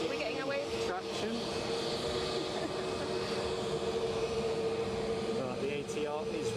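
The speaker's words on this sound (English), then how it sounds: "Right, the ATR is rolling." An ATR turboprop airliner rolls along the runway at Edinburgh airport, a steady broadband engine drone and propeller whine that holds at a constant distance throughout.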